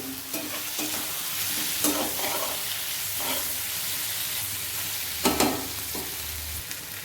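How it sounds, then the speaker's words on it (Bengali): Squash frying with spices in a pan for a fish curry, a steady low sizzle broken by occasional scraping stirs and a couple of sharper clatters near the end, with no talking. "আমার কোয়াশটা মোটামুটি ভাজা হয়ে গেছে। একসঙ্গে মশলাটা দিয়ে দিয়েছিলাম।"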